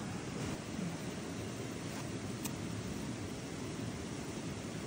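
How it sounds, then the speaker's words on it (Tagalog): A stream flows near a campsite, giving a steady, close rushing wash of water that stays even and unbroken throughout, with no voices over it. "kung naririnig nyo, maingay yung sapa sa agos ng tubig"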